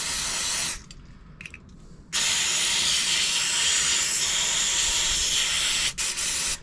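Brake cleaner sprays from an aerosol can onto a part of a Royal Enfield Classic 350 Reborn motorcycle, in close, loud hissing blasts: a short burst, brief spurts, then one long continuous spray with a quick break near the end.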